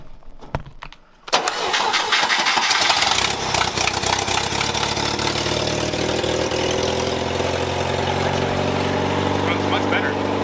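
A 1964 International Scout 80 engine cranks briefly and then fires up after a tune-up, settling into a loud, steady running idle close to the microphone, with some faint sounds beforehand.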